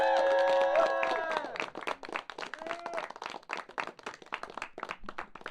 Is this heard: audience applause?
yes